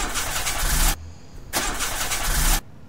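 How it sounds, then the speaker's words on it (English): A car engine in the pixel-art horror game Mermaid Swamp cranks loudly twice without catching, each grinding bout about a second long with a short quiet gap between them. "Hold on, I'll try the engine."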